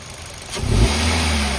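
A Hyundai Grand i10 Sportz 1.2-litre petrol hatchback from 2016 idles quietly, then revs sharply and holds at a loud, steady drone close by.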